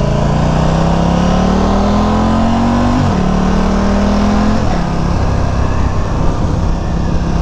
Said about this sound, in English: over revving the hell out of it.